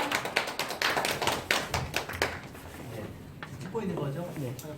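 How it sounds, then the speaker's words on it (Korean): An audience claps at an education admissions seminar, a dense burst of applause that fades over several seconds while a room voice and scattered thumps sit beneath it. "박수로 맞아주시기 바랍니다"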